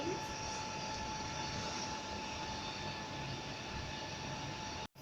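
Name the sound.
milling machine running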